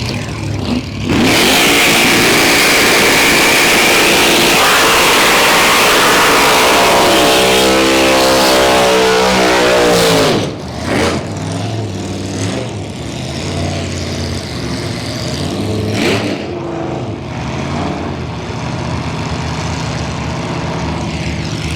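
Gasser drag racing cars launch during final qualifying at Santa Pod, an extremely loud roaring engine blast that holds for about ten seconds before cutting off, followed by lower rumbling idling engines and further revs.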